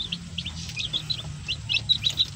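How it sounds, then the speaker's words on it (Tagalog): Baby chicks chirping in quick, lively bursts of high peeps, fairly close, over a faint low background hum. "Happy tingnan kabakard kasi masigla yung ating sisiw"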